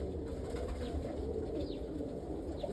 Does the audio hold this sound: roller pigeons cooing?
yes